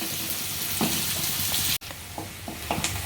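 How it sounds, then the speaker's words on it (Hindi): Onions fry in hot oil in a pan, a continuous close sizzle broken by occasional spatula scrapes as they are stirred, with a brief sharp cut partway through. "बीच बीच में चलाते हुए प्याज को भून लीजिए"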